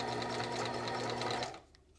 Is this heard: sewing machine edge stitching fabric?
yes